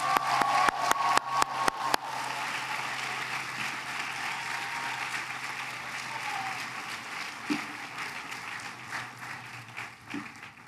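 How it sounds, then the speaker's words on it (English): Applause from the audience at a Vanderbilt University School of Nursing graduation ceremony: a few sharp, loud individual claps at first, then a sustained wash of crowd clapping in a large hall that gradually thins. "Another round of applause."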